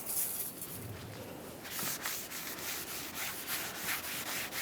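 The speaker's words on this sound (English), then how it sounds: "let's make sure we clean the mounting area." Rag wiping and cleaning the front bumper mounting area for the license plate bracket on a 2004-2008 Ford F-150, making quiet, close, continuous rubbing strokes with a soft scrubbing rhythm.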